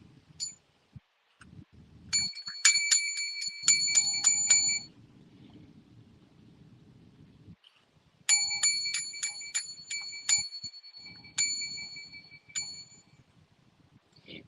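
A bicycle-style bell rings in two rapid bursts of bright dings, separated by a pause, over a faint low rumble in the background.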